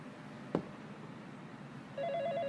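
A phone in a video game starts ringing after a brief knock, a repeating electronic trill that sets in and stays steady, moderately quiet over a low background hum.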